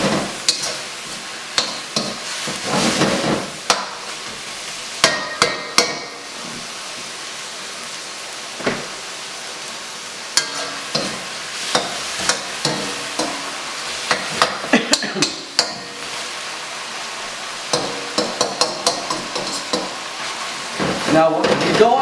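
Beef stir-fry with black soy sauce being stirred in a hot pan for Thai beef pad krapow, a steady close sizzle and frying hiss with repeated scraping and clattering strokes of the utensil throughout.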